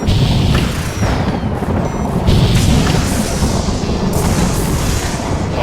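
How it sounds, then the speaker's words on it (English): Heavy booming blasts from bombs going off in the space combat game Freespace: Between the Ashes, loud and continuous with rumbling crashes rolling one into another throughout. "I'm feeling like they're lobbing bombs at us"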